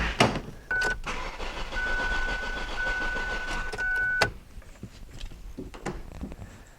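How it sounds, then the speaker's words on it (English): A Ford Focus engine with no fuel pressure cranks over for several seconds with a whirring starter and a steady electronic tone, then cuts off without catching. "Let me go ahead and just crank this engine over and confirm there's no fuel pressure."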